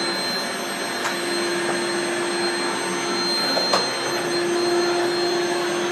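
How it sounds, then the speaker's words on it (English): A Rainbow vacuum cleaner runs on a bed mattress with a steady, loud motor whine and a high tonal hum that holds constant, broken only by a couple of faint clicks and brushing sounds as the nozzle moves over the fabric. "So Angela, I'm going to let you vacuum over there."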